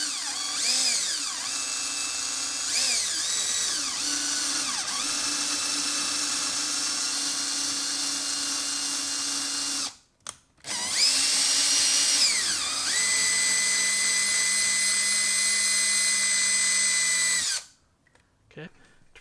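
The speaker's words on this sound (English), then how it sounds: "into the drill chuck. And just take this slow and easy. It'll tap through the plastic first." A power drill whirs loudly and steadily, stopping briefly twice, its pitch rising and falling as the bit works slowly through plastic, close up.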